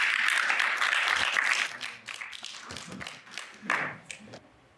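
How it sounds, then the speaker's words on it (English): A lecture hall audience applauding, dense clapping at first that thins into scattered claps and taps and fades out. "we can have a round of applause"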